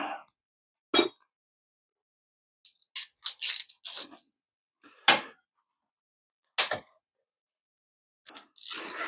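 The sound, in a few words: socket ratchet loosening car motor mount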